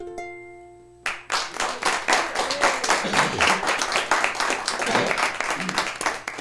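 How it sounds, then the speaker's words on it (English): A small audience of roughly eighteen to twenty people claps steadily and loudly after a short quiet lead-in, the dense applause holding even for several seconds. "that's a lot of clapping for 18, 20 people"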